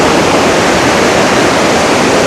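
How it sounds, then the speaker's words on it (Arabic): A river running through Rome rushes as a loud, unbroken broadband roar, close and steady like heavy flowing water, with no voices over it. "انا في نهر موجود في داخل روما"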